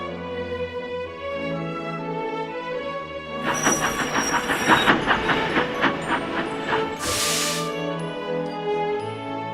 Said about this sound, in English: Blimey, that's a long train.